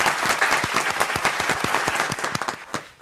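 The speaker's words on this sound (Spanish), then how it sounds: "Su nombre es Yaisel Mariño, para el cual pido un fuerte aplauso." Steady applause from a crowd, many hands clapping briskly for a few seconds before thinning out at the end.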